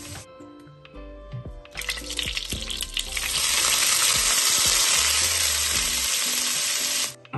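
Oil sizzling as ingredients for garlic paste fry and are stirred in a pan, starting with a few scrapes and clinks, then swelling into a loud, continuous frying hiss that cuts off near the end.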